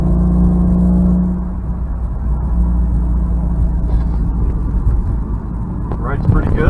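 A 2014 Subaru WRX Limited cruising in fourth gear gives a steady low engine rumble with road noise inside the cabin, the tone shifting slightly after a gear change, continuous and fairly loud.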